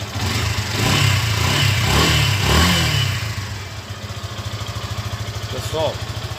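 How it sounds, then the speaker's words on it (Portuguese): Yamaha FZ15 motorcycle engine revved up in a few strong swells, then dropping back to a steady, close idle; a voice speaks briefly near the end. "Vou dar uma acelerada nela aqui."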